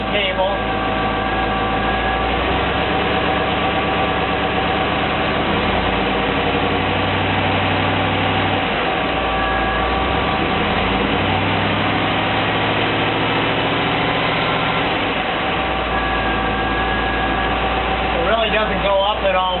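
A car engine runs steadily with its RPM raised slightly, a continuous mid-level drone with a faint whine, heard close and alone throughout.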